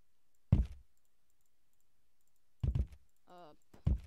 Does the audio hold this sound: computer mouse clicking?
yes